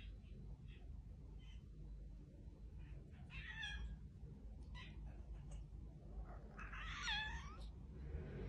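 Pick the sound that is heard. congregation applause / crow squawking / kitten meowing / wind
kitten meowing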